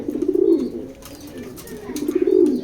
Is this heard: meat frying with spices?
no